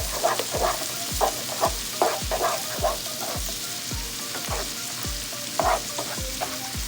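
Shrimp fried rice stir-fried in a pan: a steady sizzle runs throughout, punctuated by regular thumps and scrapes of the spatula against the pan, close up with no speech.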